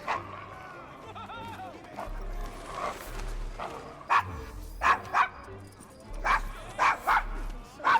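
A dog named Desmond in the Victorian London setting of Assassin's Creed Syndicate gives a run of sharp, moderately loud barks in quick bursts toward the end, after quieter game ambience and murmured voices.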